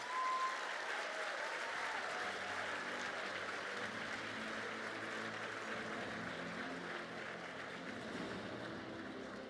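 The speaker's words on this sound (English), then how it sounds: "Yes, you can clap it up for her again because she deserves it." A live audience at a Black public administrators' forum breaks into sustained applause, dense and steady clapping from a large crowd that fills the room for several seconds and tapers only slightly.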